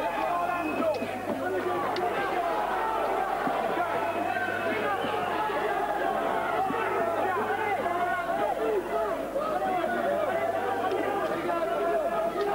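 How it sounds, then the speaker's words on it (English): A dense boxing crowd at the Ponds Forge Leisure Centre shouts and chatters continuously, a steady loud roar of many voices without pause throughout. "this crowd at the Ponsforge Leisure Centre have had an awful lot to shout about"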